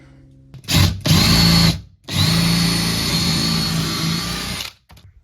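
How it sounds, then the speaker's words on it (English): A power tool cuts through the floor of a semi-trailer conversion, a loud close buzzing whine in two runs: a short burst, a brief pause, then a longer steady cut that stops abruptly. "I'm having to cut through the floor."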